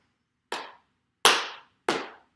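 Three sharp hand claps, evenly spaced and close, ringing out alone in a quiet room during a Shim Sham tap dance lesson, each with a short decaying tail.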